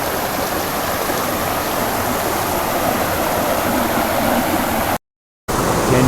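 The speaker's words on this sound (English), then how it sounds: "Can you hear the waterfall?" A jungle waterfall near Gambita, Colombia, in very thick forest, roars as a steady, loud, close wash of rushing water that fills the whole clip, with a brief dropout to silence near the end.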